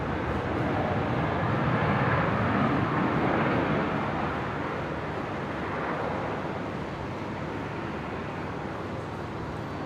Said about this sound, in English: there's the Air New Guinea 76 just doing a quick photo bomb there on the taxi out